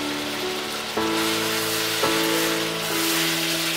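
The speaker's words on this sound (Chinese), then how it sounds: "加入尖椒和拍散的大蒜，边炒边收汁" Zaozhuang spicy chicken stir-fries in a wok with green chili peppers and smashed garlic as the sauce reduces. A loud, continuous sizzle runs throughout, with faint sustained musical tones shifting underneath and no talking.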